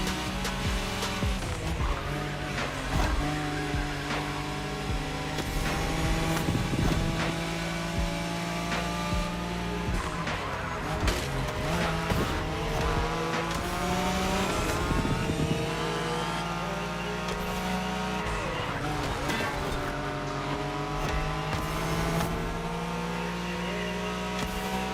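A Nissan Skyline in The Crew Motorfest races at speed with a loud, continuous engine roar that rises and falls as it revs through the gears. A background music bed plays underneath and no one speaks.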